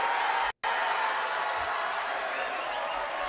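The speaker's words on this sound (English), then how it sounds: "So let's give him a round of applause." A round of applause welcomes a guest named Ken onto a horror movie review show. It is a dense, steady wash of clapping with a split-second dropout near the start, then continuous to the end.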